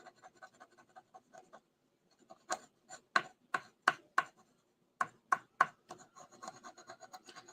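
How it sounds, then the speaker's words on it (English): Bone folder rubbed over paper to wrap an image to the edges in a card-making project, a series of quiet close scraping strokes in bursts, faint at first and then firmer and rhythmic. "Then I'm gonna grab my bone folder and I'm gonna wrap."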